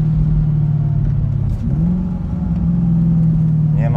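A BMW E30 fitted with a V8 drones steadily while driving, a loud near engine note with a brief dip and rise in pitch midway; distinct pops are hard to pick out, and a voice talks over it.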